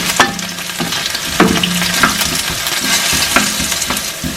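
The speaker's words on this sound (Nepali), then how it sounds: "यसमा आलु हाल्नुस्, साथसाथै यो काटेको प्याज पनि हालिदिनुस्।" Potatoes and chopped onion fry in a pan, giving a steady close sizzle broken by repeated scraping clinks of a utensil stirring against the pan, with no talking.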